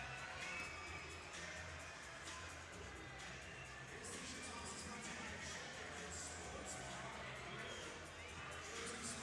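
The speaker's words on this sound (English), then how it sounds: "There you see Sonny getting this great crowd fired up at Frontwave Arena." Indoor arena crowd at a professional indoor soccer game (Tacoma Stars vs San Diego Sockers, Frontwave Arena) cheering and shouting continuously, a dense, steady roar of many voices with children's yells mixed in.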